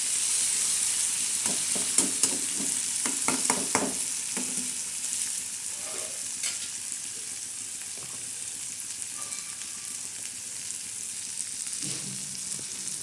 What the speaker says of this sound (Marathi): ठेसा टाकून बनवणार आहोत कोबीची भाजी आणि कोथिंबीर आता हे आपण चांगलं चांगलं फ्राय करणार आहोत